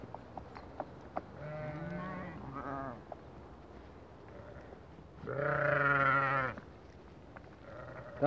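Sheep heading out to green pasture bleat in two loud, wavering calls, the second longer and nearer, with quieter farmyard noise between them.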